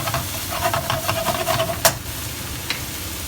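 Noodles are stir-fried in a hot pan, hissing and sizzling steadily. Repeated scraping stirs and tossing clatters land close and clear, with a sharp knock near the end.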